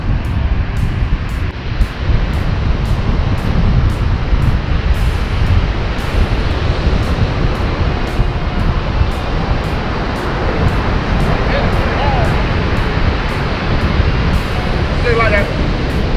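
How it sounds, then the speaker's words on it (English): Strong wind buffets the microphone on an open beach while surf rolls in steadily behind it, a continuous loud roar with no break. "Man, it's windy."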